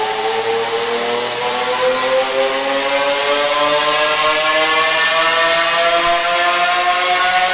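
Tuned car engine with carbon-fibre bodywork and a large rear wing revving on a dyno toward 8500 rpm, a loud sustained wail climbing steadily in pitch from start to finish.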